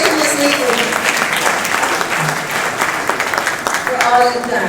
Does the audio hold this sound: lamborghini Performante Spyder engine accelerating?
no